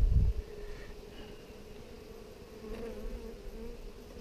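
Honeybees buzz steadily around a Flow Hive in Alaska, a close, continuous droning hum with a brief louder thump at the start and no talking.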